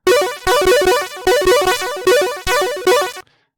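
Commodore 64 chiptune built in GoatTracker with synched arpeggio chords, a loud, buzzy electronic pattern of rapid stepping tones in repeated bursts with sharp drum hits, stopping abruptly into silence.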